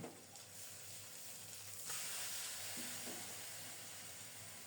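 Fish, spices and onion fry together in a pan, giving off a soft, continuous sizzle and hiss that stays faint and steady throughout.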